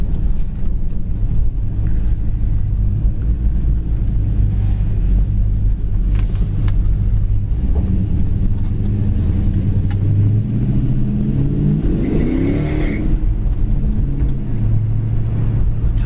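A red 1969 Chevrolet Chevelle with four-wheel power disc brakes drives along a road, its engine a deep, steady rumble heard from inside the car, swelling briefly as it revs near the end before settling back.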